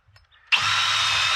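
A power drill bores into very dense wood, its bit cleared by pulling in and out. After a brief quiet start the motor kicks in sharply and holds a steady, close, high whine to the end.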